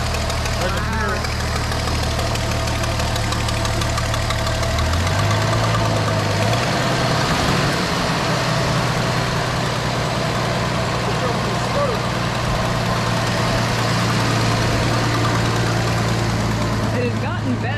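The barn-find 1973 Dodge Dart Swinger idles after sitting 29 years, a loud, steady low rumble with an uneven carburetor sputter and slight knocking, its pitch shifting briefly partway through while people talk over it.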